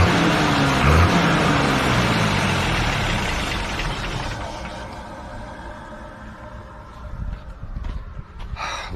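A farm tractor's engine runs steadily during midday fieldwork, a loud broadband rumble that gradually fades and weakens toward the end, with no voices.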